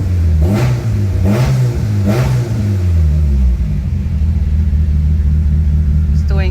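A Mitsubishi Evo 8, just tuned after fuel problems, fires up nearby and gives three sharp revs before settling into a steady, rumbling idle.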